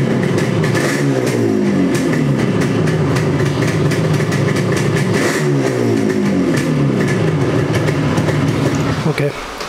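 A Yamaha RD motorcycle fitted with new silencers revs repeatedly, rising and falling engine bursts over a steady two-stroke idle, close and loud.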